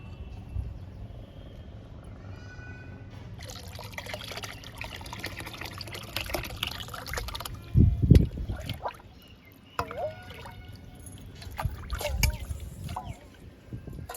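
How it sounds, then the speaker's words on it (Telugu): Liquid plant fertilizer is poured into a 10-litre bucket holding 9 litres of water, giving a watery pouring and swishing sound with a louder splash near the middle over steady background noise. "ఈ వాటర్లో ఈ లిక్విడ్ని డైల్యూట్ చేద్దాము."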